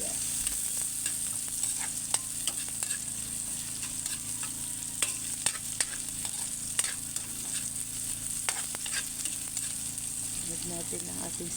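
Onion and ginger sautéing in oil in a pan for chicken tinola, a steady soft sizzle with occasional stirring clicks and scrapes throughout, close and continuous with no talk.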